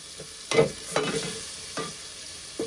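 Chicken going into a hot karai and being stirred, giving a few sharp sizzling bursts and spatula scrapes against a steady frying hiss, close and fairly loud.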